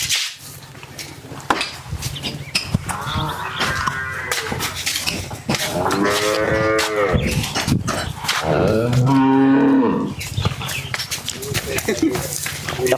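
A large dairy cow at a cattle farm lets out several drawn-out moos, the longest and loudest near the end, while people talk steadily over the animal's calls.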